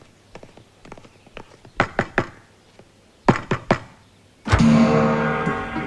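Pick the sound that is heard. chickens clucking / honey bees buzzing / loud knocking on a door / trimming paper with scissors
loud knocking on a door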